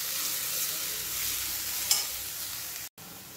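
Peanuts and poha sautéed in a pan, a steady bright sizzle with gentle stirring throughout, close and loud, briefly cut off near the end before resuming.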